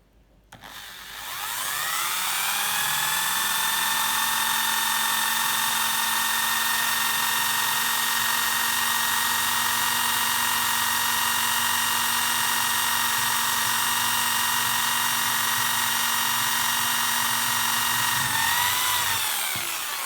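Power drill boring a 2.5 mm hole in a bicycle crank part, a steady high whine that spins up and holds loud and unbroken for about eighteen seconds before winding down, with no talking.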